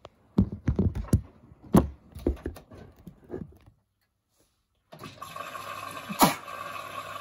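Water running into a container while filling, a steady rushing hiss in the second half that follows a series of clunks and handling knocks, then a brief pause of near silence.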